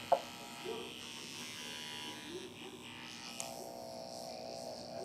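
A quiet electric dog clipper buzzes steadily, then its motor tone changes partway through as it drops two speeds. A faint click comes at the start.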